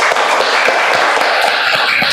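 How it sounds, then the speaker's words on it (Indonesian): Classroom applause as a teacher asks students to clap for all the presenting groups: dense, steady clapping from a room of pupils, loud and close throughout with no talk over it. "Tepuk tangan dulu untuk kita semua."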